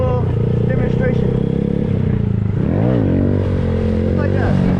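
A Honda Grom motorcycle engine runs loud and close as its rider pops the clutch for a wheelie, with a steady throb and then a quick rising and falling rev.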